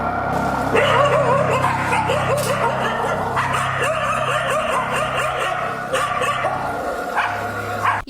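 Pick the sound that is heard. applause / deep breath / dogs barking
dogs barking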